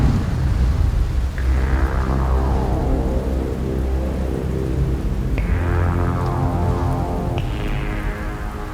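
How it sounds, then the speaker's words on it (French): Steady heavy rain pours down in a dense, continuous hiss, with a few brief swells rising out of the wash; no voices are heard. "La pluie. Toujours la pluie en grosses gouttes, gouttes froides, gouttes lourdes."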